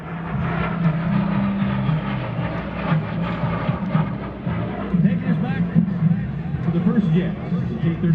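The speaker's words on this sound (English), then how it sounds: "Watch the graceful lines of the T-33 as he comes all the way around." A T-33 jet aircraft flying at the Arctic Lightning airshow, its engine roar a steady distant rumble beneath the loud voice of an announcer and faint crowd murmur.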